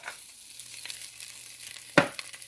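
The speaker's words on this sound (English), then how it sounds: "The first step to our loaded potato soup will be getting our bacon cooking" Bacon cooking in a pot for loaded baked potato soup, a faint, steady sizzle with light crackling and one sharper spatter or clatter partway through.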